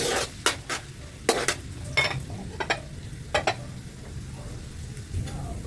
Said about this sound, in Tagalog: Umpisa natin sa garlic, bawang. Igisa natin sa butter.